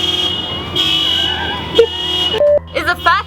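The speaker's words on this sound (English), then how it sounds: "This is like the 7th time I had to stop for this fucking random car that keeps beeping." A car nearby keeps beeping while someone is out bouldering, with short electronic tones heard among outdoor background noise, followed by a steady tone and a few quick chirps near the end.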